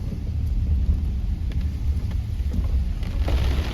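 Rain falls steadily in a residential cul-de-sac during a stormy spell with flood warnings, a constant hiss over a low rumble close by.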